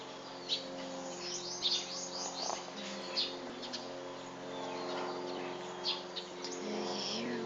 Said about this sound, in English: Can you hear the sound of the birds chirping outside there?